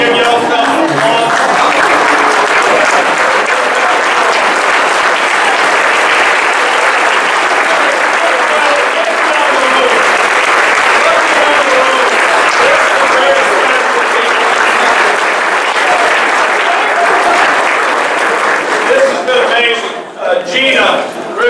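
A standing audience at a foundation dinner gives long, loud, continuous applause, a dense roar of clapping with crowd noise that holds steady for about twenty seconds before thinning out at the end.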